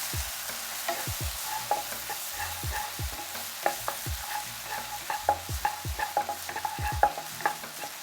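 Vegan Thai curry paste being stir-fried in oil in a pan, with a spatula scraping and knocking in a steady, repeated rhythm over a continuous close sizzle and no talking.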